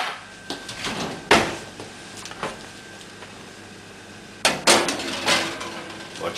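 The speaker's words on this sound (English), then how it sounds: "we're going to put them into the oven" Kitchen clatter as a tray is slid into a preheated oven: a few sharp metallic knocks and bangs, one early and a cluster near the end, over a quiet room hum with no talk.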